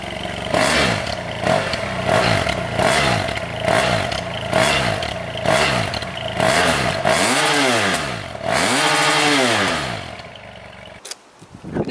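A BMW F800 motorcycle engine is revved repeatedly while standing, with about ten quick, loud throttle blips in a steady rhythm, followed by a few slower, deeper revs that rise and fall before it drops away.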